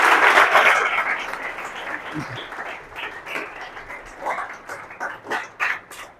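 A class of students claps for a girl who placed first in a coaching centre's test-result celebration, loud applause that fades into scattered claps, with voices talking over the end.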